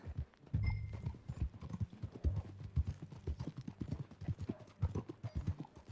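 Horse hooves clip-clop in a steady walking rhythm, close and fairly loud, with low rumbling ambience underneath, in the video game Red Dead Redemption 2.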